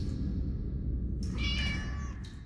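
A cat in the Minecraft: Story Mode video game meows once over a steady low rumble of background sound, with a second short call trailing at the end, no talking.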